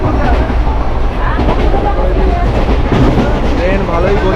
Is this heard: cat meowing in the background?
no